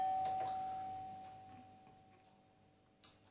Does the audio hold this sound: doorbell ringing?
yes